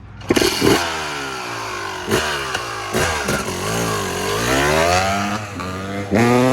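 A Yamaha YZ250 two-stroke dirt bike with big wheels fires up and runs close by, its engine revving repeatedly with rising and falling blips between loud bursts, no talking over it.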